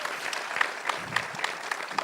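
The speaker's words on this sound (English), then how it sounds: "Give me a round of applause." Audience at a film Q&A breaks into steady applause, a brief burst of many hands clapping with a few sharper individual claps standing out.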